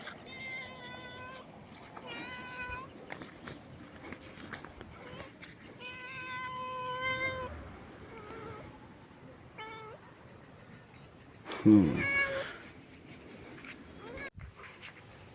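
A domestic cat that followed someone home meows repeatedly in short harmonic calls, close and fairly quiet, with a louder burst near the end.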